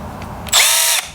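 A Milwaukee M12 power tool on its low power setting whirs up in one short, loud, close burst lasting about half a second, then stops, with a faint motor hum before and after.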